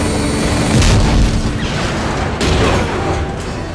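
A loud, sustained deep rumble with booming surges, like a large explosion rolling through, dense and noisy throughout.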